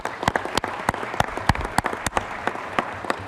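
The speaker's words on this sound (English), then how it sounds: "One more round of applause." Applause at a city council meeting: a modest group clapping unevenly, with individual sharp claps standing out over a soft spattering of hands, moderately near and fairly quiet.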